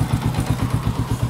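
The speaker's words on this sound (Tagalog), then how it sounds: "Timing chain lang, kunting sagit-sit ng timing chain." A Honda Rouser 135 motorcycle engine idles close by with a steady pulsing putter and a light rattling timing chain ticking over the top, heard briefly with no talk.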